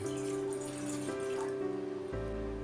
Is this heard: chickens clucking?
no